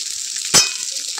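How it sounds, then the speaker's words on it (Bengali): Potatoes and onions fry in oil with bay leaf and five-spice seeds, a steady high sizzle running throughout, broken near the middle by one brief louder clatter or stir. "আলুটা ভাজা ভাজা যতক্ষণ হবে ততক্ষণ পেঁয়াজটা ভাজা হয়ে যাবে।"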